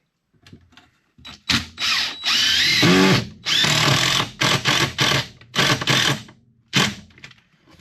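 Cordless drill driving screws into a wooden wall stud during basement framing, in a series of close, loud bursts of whirring with brief pauses between them and a longer sustained run early on.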